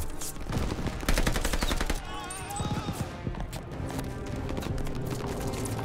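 Dense gunfire from the video game Call of Duty Vanguard, loud and continuous, layered with music and battlefield noise, with a voice talking over parts of it.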